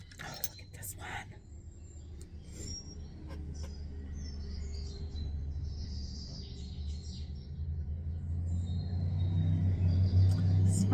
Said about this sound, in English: Sorry for all the traffic sounds. It's like lunchtime.